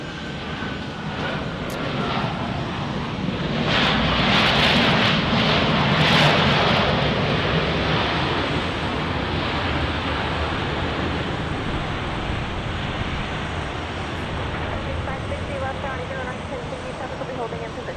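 An aircraft at Dallas Love Field during a thunderstorm gives a steady, loud broadband roar that swells around the middle and stays dense throughout, with rain-like hiss mixed in.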